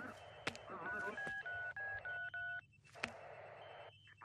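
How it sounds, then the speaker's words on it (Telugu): Telephone keypad tones beep in a quick sequence of short, steady touch-tone notes, with brief clicks and faint room noise around them. "ఫోన్ చేయవయ్యా"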